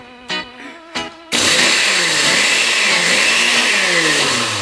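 Kitchen blender whirring through potatoes, starting with two short pulses, then a sustained loud motor whine with shifting pitch as the blades churn the mixture, close up with no talking.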